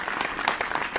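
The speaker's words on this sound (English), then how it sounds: "let's give a round of applause to the first time viewers" A short burst of dense audience applause at a fatherhood-themed gathering, even and moderately loud with no voices over it.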